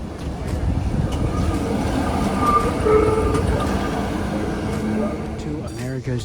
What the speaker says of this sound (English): There goes one of the F trains.